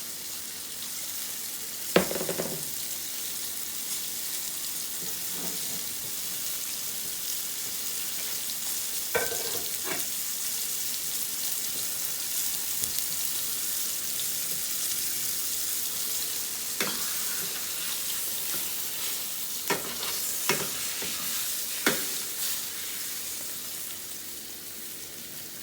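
Cube steak browning in cooking olive oil in a pan, giving a steady close sizzle throughout, broken by a few sharp scrapes and clinks of a utensil.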